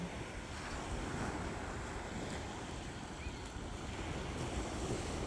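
Ocean waves break steadily on a shore along the Netherlands coast as a soft, continuous wash of surf, fairly faint and mixed with wind buffeting the microphone, with no clear talk.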